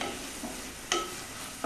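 Cauliflower curry being stirred in a thick-bottomed pressure cooker pot: a steady frying sizzle with three short scraping strokes of a spoon against the pot, close by.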